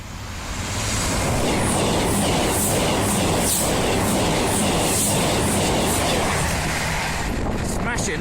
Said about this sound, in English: Virgin Voyager there off to Birmingham New Street.